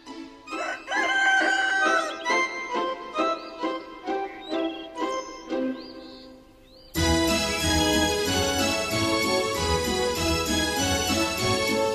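A cartoon rooster from a Ukrainian animated version of the Straw Bull tale crows in a run of bright, rising calls over a light tune. Fuller, louder music then takes over for the rest.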